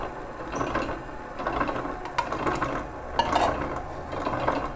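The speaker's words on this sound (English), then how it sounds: "I'll be zooming it in and show everyone how the stand mixer works" A stand mixer runs at close range while blending sugar, milk and oil into batter for an Oreo chiffon cake, giving a steady mechanical whir with gear-like rattles and occasional sharp clicks, with no talking.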